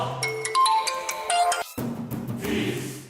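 A phone ringtone in a Tamil TV serial plays a bright, melodic run of electronic notes for about a second and a half, then cuts off and leaves quieter room sound.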